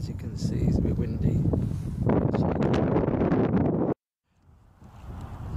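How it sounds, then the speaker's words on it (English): Strong wind buffeting the microphone outdoors at Stonehenge before rain, loud rushing gusts that cut out abruptly and then return more softly. "It's a bit windy today"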